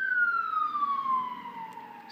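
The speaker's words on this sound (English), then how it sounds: "Excuse the ambulance, I live by a hospital." An ambulance siren passes close by near a hospital: one loud, clear wail that slides steadily downward in pitch as it goes by, with no talking.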